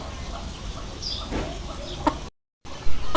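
Several hens, some of them ill with colds, cluck softly and intermittently at close range on a farm, with a brief dropout in the middle and a couple of louder calls near the end.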